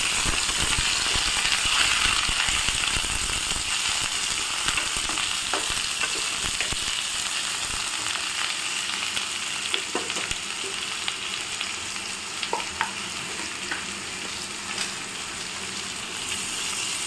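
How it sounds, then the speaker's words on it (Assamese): Pumpkin pieces frying in a hot pan with dried chillies, a steady close sizzle running throughout with occasional small clicks and stirring scrapes, no voices. "তাৰপৰা দি দিব আপোনাৰ ৰঙালাওখিনি।"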